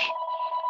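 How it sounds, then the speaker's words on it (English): Brief electronic telephone ring sounding in the background of an indoor room, a steady two-tone chirp lasting under a second. "Sorry that the phone is ringing in the background."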